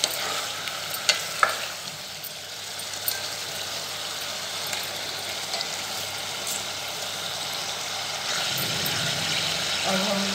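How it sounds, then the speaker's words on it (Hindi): Chicken pieces frying in a pan for a homemade chicken curry give off a steady, close sizzle with stirring scrapes and a few sharp clinks early on, the tone shifting slightly near the end. "चिकन फ्राई होता रहेगा"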